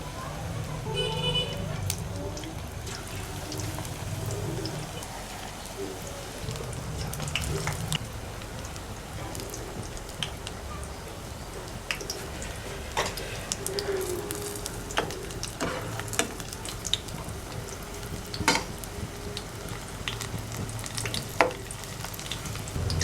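Stuffed mirchi vada roasting in oil over a slow flame, a steady close sizzle and crackle running throughout with occasional sharper pops, while someone talks over it.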